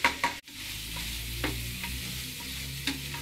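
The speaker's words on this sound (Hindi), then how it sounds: "इस चिकन को इसी स्टेज पे अच्छी तरह पकाना है" Chicken for biryani frying in a pan, steady close sizzle with a few sharp scrapes of a spoon stirring the pieces, no voices.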